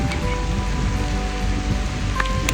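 Heavy rain pounding down on a mountain road trip, a loud dense hiss of drops hitting surfaces with scattered sharper splats, steady throughout and without talk.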